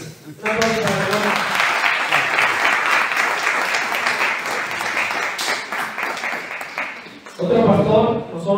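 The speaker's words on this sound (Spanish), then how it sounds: "Un aplauso para el hermano." Congregation at a church service applauds a visiting pastor, a dense, steady burst of clapping lasting several seconds before a voice resumes speaking.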